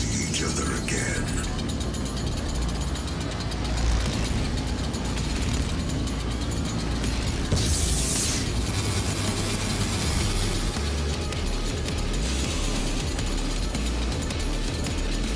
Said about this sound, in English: The chainsaw noise is hilarious